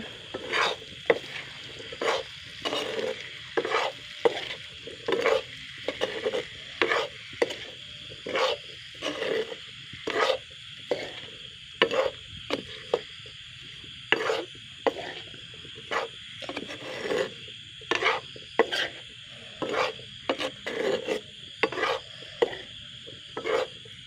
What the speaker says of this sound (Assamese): এতিয়া আমি তাত দি দিম সৰু সৰুকৈ কাটি থোৱা তিয়ঁহখিনি। এইখিনি আমি এতিয়া লৰাই দিম।